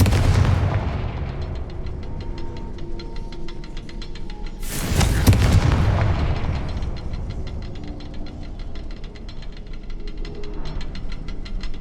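A Confringo fire spell blast in the Hogwarts Legacy video game: a loud, sudden booming burst midway through, set against a continuous crackling, rumbling game soundscape with no speech.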